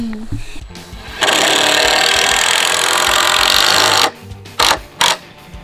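A power drill or driver sinks screws into wooden boards about 2.5 feet tall for a goat milk stand, one long steady whirring run of about three seconds, then two short bursts, with a little talk and handling noise around it.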